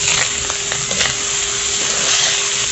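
Adobong sitaw with oyster sauce, pepper and seasoning mix stirred in a hot pan, a steady close sizzle with soft scraping stir strokes running throughout, no voices.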